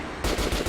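An automatic machine gun in the video game Metro Last Light Redux fires a very brief, loud, dense rattle of rapid shots.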